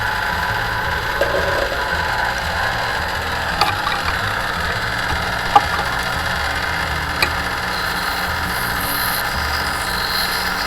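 A power tool spins on a slingshot flechette, polishing it to a finer finish, giving a steady whirring, grinding hum with a few small ticks and clicks along the way, no talking.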